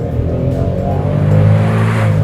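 Ford Figo automatic revving hard and accelerating in sport mode, a loud, steady engine roar climbing in pitch from launch with no pause, close to the microphone and without talk.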